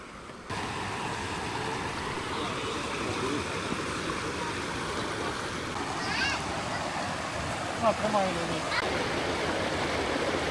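Mountain river rushing steadily from the hills near a waterfall area, a loud broadband wash of flowing water throughout, with faint voices and a few brief sounds over it.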